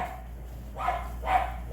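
A dog barks somewhere in a room during a lesson, giving two or three short muffled barks spaced about half a second apart, fairly distant and moderately loud over a steady low hum.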